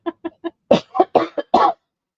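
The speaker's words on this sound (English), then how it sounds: "I'm really sorry about the coughing" A fit of coughing close up: three short light coughs followed by several harder, deeper coughs in quick succession, then quiet.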